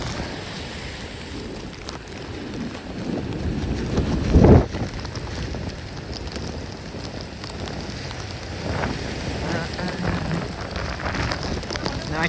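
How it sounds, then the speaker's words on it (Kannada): Steady rain patters on a surface with broadband hiss, a louder burst of noise rising briefly partway through, then the downpour continues evenly. "ಮಳೆ ಬತ್ತಿತ್ತ"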